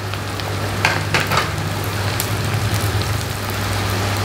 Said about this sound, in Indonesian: Kita masukkan bawang putih.